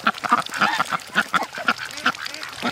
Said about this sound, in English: This is one happy flock of ducks.